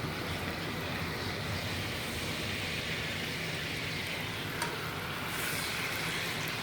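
Thin steaks sizzling in a hot pan, a steady, even frying hiss with a faint crackle throughout and no talk.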